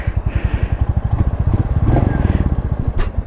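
A 2024 Royal Enfield Meteor 350 single-cylinder motorcycle idles nearby with a steady, loud, evenly spaced low thump that barely changes pace over a few seconds.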